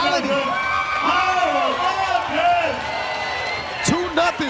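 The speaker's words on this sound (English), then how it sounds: "The crowd is on fire" Basketball crowd cheering at a FIBA 3x3 World Tour game in Saskatoon, a loud, continuous roar of voices with whoops and shouts, and a sneaker squeak near the end.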